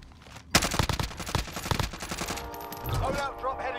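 Rapid bursts of gunfire in a battle royale video game ring out loud and close, dense and overlapping for a couple of seconds, then thin into scattered distant shots with a brief voice.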